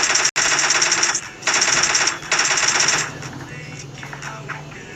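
Rapid automatic gunfire in a video game shootout, loud, dense bursts for about three seconds broken by brief gaps, then tapering into quieter scattered shots.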